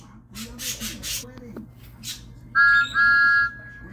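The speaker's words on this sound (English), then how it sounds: "Then he heard a whistle." Steam engine whistle from a talking-locomotive railway story, two loud sustained shrill blasts near the end after a brief gap, following softer chuffing-like noise and voices.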